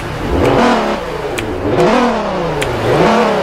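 A 2017 Nissan 370Z engine revs loudly up and down in repeated throttle blips close by, rising and falling in pitch while parked at a gas station.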